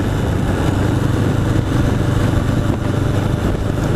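A 1981 Honda CB750 Custom motorcycle engine runs steadily up close with freshly sorted carburetors, a loud continuous mid-pitched drone with slight throttle fluctuations and no talking.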